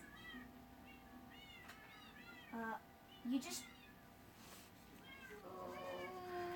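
Indoor cats meow several times, short rising calls scattered over a quiet room, while a person speaks briefly.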